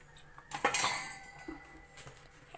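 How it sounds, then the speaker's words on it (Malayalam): A metal pressure cooker is picked up and set down on a kitchen stove while preparing chicken curry. There is a short burst of close metallic clanking and scraping, then faint clinks, with no voices. "ഇനി കുക്കർ എടുത്ത് അതിൽ കുറച്ച് എണ്ണ ഒഴിക്കണം."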